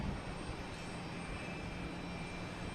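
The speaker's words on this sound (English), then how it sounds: "We have JetBlue coming in from Dublin in A321neo" JetBlue Airbus A321neo jet arriving at Boston Logan from Dublin, a steady, fairly faint engine drone holding level throughout the short stretch.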